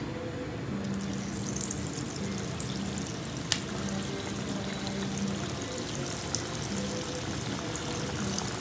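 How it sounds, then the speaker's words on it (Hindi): Semolina rasbhari tikkis slipped into hot oil, a steady, fairly quiet sizzle and bubbling with a few small crackles and pops, heard alone without talk. "अब हम डालेंगे इसमें ये टिक्की।"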